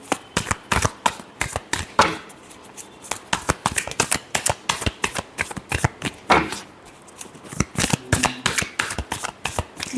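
Tarot cards riffled and shuffled by hand in quick, crisp, close bursts of rapid flicks that continue steadily throughout with only brief pauses.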